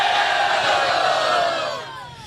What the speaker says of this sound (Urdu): نعرے بھٹو.